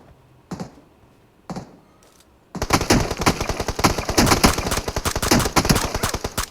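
Rapid automatic gunfire in the PUBG Mobile battle royale game, with two isolated shots first and then a sustained, dense burst of fire lasting several seconds, loud and close.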